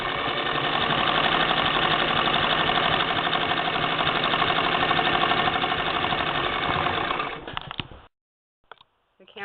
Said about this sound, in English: you can just lift it all the way up, and the machine will go backwards